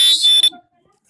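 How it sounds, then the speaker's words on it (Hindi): A homemade fire alarm buzzer blares with a loud, shrill, steady electronic tone for about half a second, then cuts off into near silence. "ये देखिए हमारा बजर भी अच्छे से बज रहा है"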